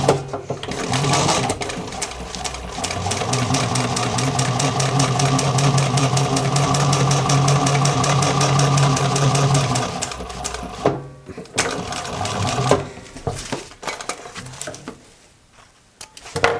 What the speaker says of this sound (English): I'm just doing a basic seam here